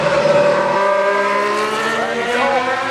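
McLaren Le Mans race car with a 6.1-litre engine at a hillclimb festival, a loud sustained engine roar with shifting pitch as it accelerates nearby.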